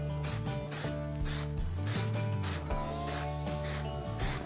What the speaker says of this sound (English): So I'm gonna take this and spray the back of it.